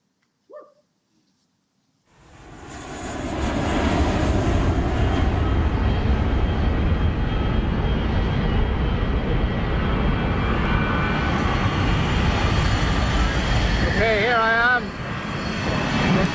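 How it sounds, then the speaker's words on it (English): A jet airplane engine roars loudly and steadily for over ten seconds after a quiet start, with a short vocal sound near the end. "fucking airplane!"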